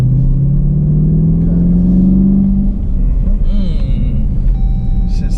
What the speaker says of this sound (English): Damn, yo, that exhaust sound crazy, son.